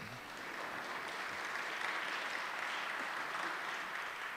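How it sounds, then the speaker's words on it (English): Audience applause after a cue from a speaker at a public event with a US Senator present, a steady wash of clapping at moderate level, faint and somewhat distant, with no talking. "Go ahead and clap."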